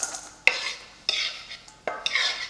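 Chopped vegetables for a tuna and egg salad are tossed in a bowl with a utensil: three or four quick scraping, rustling strokes, each opening with a sharp click, close and clear against silence.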